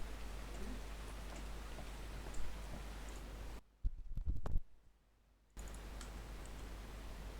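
Steady rain pattering in the video game Ark, a continuous soft hiss with faint ticking drops that cuts out abruptly for a couple of seconds of near silence with a few clicks, then resumes.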